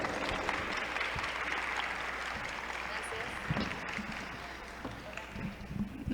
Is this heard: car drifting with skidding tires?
no